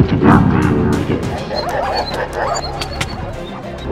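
Dogs bark and yip repeatedly amid busy PvP combat in a video game where dogs are used as weapons in war, the barks close and loud over clattering game effects, with voices talking over them.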